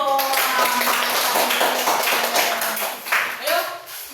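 Children in a classroom clap their hands in a burst of quick, close taps alongside children's voices and singing tones, fading unevenly toward the end.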